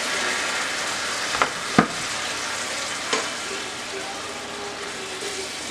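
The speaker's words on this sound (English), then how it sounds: "Cook that down for just a couple of seconds. Alright, we're going to add some Marsala wine." Sausage and peppers simmering in a pan with Marsala wine added, a steady broad sizzle and bubbling throughout, with a few brief clinks or stirs standing out briefly.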